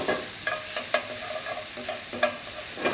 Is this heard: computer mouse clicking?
no